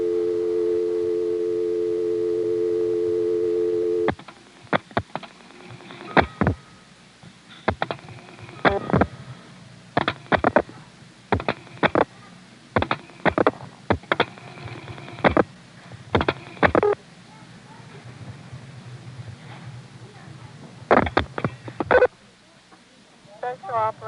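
A step-by-step XY telephone exchange call reaches the Nokesville operator intercept in Prince William County, Virginia, circa 1977. A steady tone gives way to irregular bursts of mechanical switching clicks and relay chatter, with a voice heard at times.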